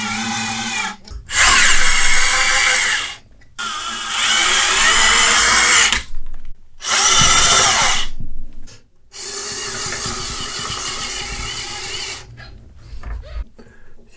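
A power screwdriver drives self-tapping metal screws into the hull of a Sherman tank model: loud, close whirring bursts, about five runs separated by short silent pauses.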